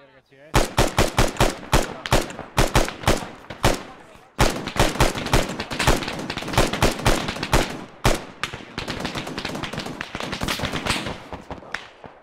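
Rapid bursts of automatic gunfire from the Arma 3 video game crackle loudly and close, with sharp rhythmic volleys, brief pauses and renewed strings of shots.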